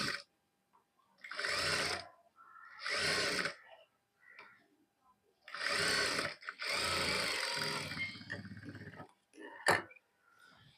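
Sewing machine stitching a joint in a dress, several short bursts of rapid whirring stitching separated by pauses, close and clear, with a brief sharp click near the end.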